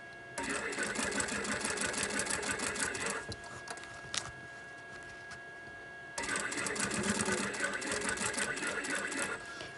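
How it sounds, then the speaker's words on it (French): A sewing machine stitches a fabric pouch in two long, steady buzzing runs separated by a quieter pause of a few seconds, heard close up. "je le mets bien droit et je continue pour avoir une couture bien droite."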